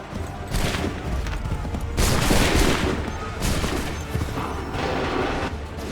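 Musket volleys from an Assassin's Creed 3 battle crackle in dense, overlapping bursts, several loud waves of gunfire rolling one after another for several seconds.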